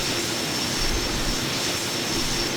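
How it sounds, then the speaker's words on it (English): Constant, dense jet engine roar at full power from a B-2 Spirit bomber taking off in Microsoft Flight Simulator 2020, a broad steady rush with no pauses or voices. "it actually can take off quite well"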